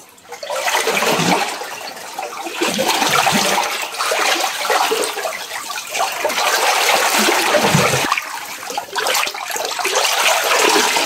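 Spring water gushes strongly from a source near a tree beside abandoned houses by the sea. It makes a loud, steady rushing and splashing that carries on with no break and changes only slightly in intensity.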